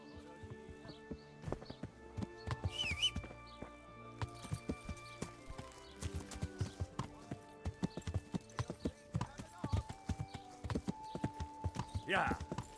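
Horse hooves clip-clop in a steady rhythm in a video game, loud and close, with occasional bursts of other game sounds layered over the gait.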